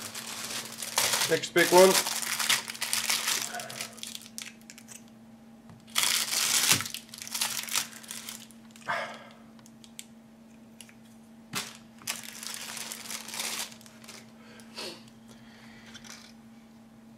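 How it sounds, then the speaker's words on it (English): Plastic model kit sprues for a Cruiser Tank A10 Mk. 1A rattle and crinkle in bursts close by, with someone talking between the handling noises. "Nice rattly plastic."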